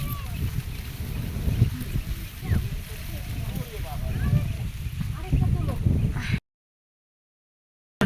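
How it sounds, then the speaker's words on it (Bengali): Strong wind blows beside a corn field, a steady low buffeting rumble across the microphone with a person talking over it until the sound cuts off abruptly. "অনেক বাতাস।"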